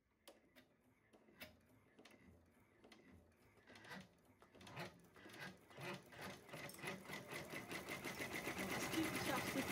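A Babylock Array embroidery machine stitches a mug rug in the hoop, starting with scattered clicks and then building into a fast, steady rhythmic chatter that grows louder and denser toward the end, with a voice speaking over it.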